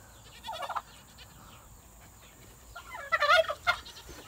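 Young guinea fowl keets give two short clusters of high, rapid peeping chirps, one early and a louder burst near the end, with quiet pauses in between.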